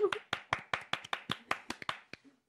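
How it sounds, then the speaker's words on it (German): About a dozen separate hand claps in a studio sports show, fairly quiet and unevenly spaced, trailing off near the end with no other sound. "Regie, wo ist mein Applaus?"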